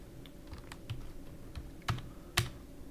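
A computer keyboard is typed on in a quiet room, giving a few soft, scattered keystrokes and two sharper clicks near the end, with no voices.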